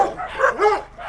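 A stray dog at a bus station, injured after being hit by a car, gives a few close, loud yips and barks in quick succession.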